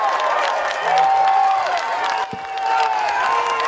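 Steady applause from a crowd at a staged public event, many hands clapping at once with some cheering mixed in, and a voice speaking over the clapping.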